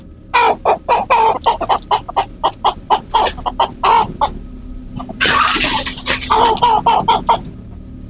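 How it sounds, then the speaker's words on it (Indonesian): Chickens cluck and squawk noisily at a camp among trees, in rapid repeated bursts close by, with a louder flurry midway and no speech. "Suara ayam tiba-tiba ribut."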